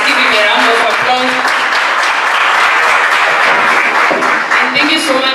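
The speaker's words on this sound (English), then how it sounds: "Let's give him a round of applause." A crowd at a children's climate summit in Africa breaks into loud, close applause that carries on steadily, with voices talking and calling out over the clapping.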